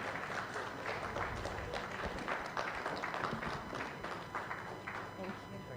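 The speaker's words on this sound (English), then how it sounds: "Please let's keep clapping till he comes up on stage." A large crowd at the REDA 2024 real estate awards event claps continuously and densely as someone walks up onto the stage, with the applause holding steady and loud throughout.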